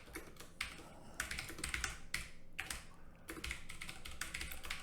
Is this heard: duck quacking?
no